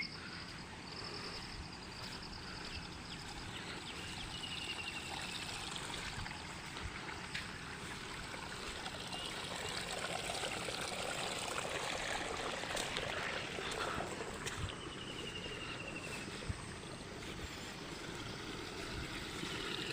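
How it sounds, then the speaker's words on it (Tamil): Floodwater rushes through a breached field bund after Cyclone Fengal's rain, a continuous, fairly faint gushing and trickling of water that runs steadily for the whole stretch, with no voices heard. "இதெல்லாம் பாருங்கள் தண்ணியோட வேகத்தில் ஃபுல்லாக அப்படியே உடச்சின்னு தண்ணி போய்க்குது"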